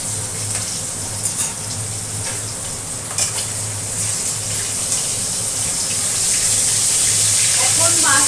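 Fish sizzling in a hot pan beside a pumpkin-leaf dish, making a loud, continuous close crackle with occasional stirring clatter that swells slightly toward the end.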